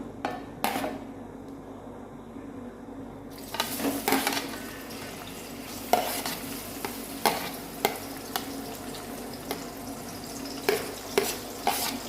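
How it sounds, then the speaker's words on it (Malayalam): Sliced onions frying in hot coconut oil in a pan, giving a steady close sizzle with repeated stirring scrapes and light clinks of utensil on metal; no one speaks. "എണ്ണ ചൂടായിട്ടുണ്ട് നമുക്ക് ഇനി ആദ്യം ഇതിലേക്ക് സവോള ചേർക്കാം"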